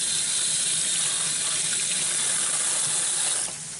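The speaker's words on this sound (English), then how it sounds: "Let me rinse my hands." Water runs steadily from a kitchen tap into a sink as hands are rinsed, a close, even hiss that cuts off abruptly near the end, with no talk.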